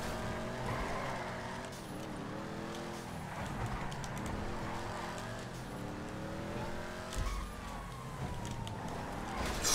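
A Dukes muscle car roars in a racing video game, engine pitch rising and falling through gear shifts with tire squeals, steady and fairly quiet under faint background sounds.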